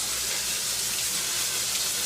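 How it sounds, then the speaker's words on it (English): Tap water runs through a strainer to rinse seeds, a steady, full rushing splash that stays constant and close throughout, with no talk. "take my water, take my strainer, and I give it a good rinse"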